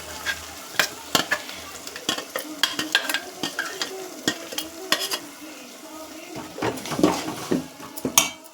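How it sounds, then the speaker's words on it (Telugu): Mixed paste for egg pulusu stirred and frying in a pan, with repeated sharp scraping clicks of a spoon against the pan over a steady sizzle, close and fairly loud, no talk. "తర్వాత మనం ఇంత ముందుకు మిక్స్ చేసుకున్న పేస్ట్ వేసుకోవాలి."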